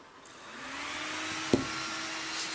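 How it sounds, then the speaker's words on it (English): A used budget desktop PC booting up with its cooling fans and a slightly noisy power supply whirring in a steady, airy hum, with one brief click partway through and no speech. "Power supply is making a bit of noise"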